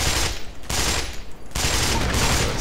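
Rapid automatic gunfire from a weapon in the video game Black Mesa, several loud sustained bursts separated by brief gaps.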